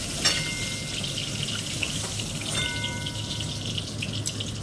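Oil frying in a kadai pan, a steady soft sizzle with faint crackles throughout, fairly quiet and heard alone without talk.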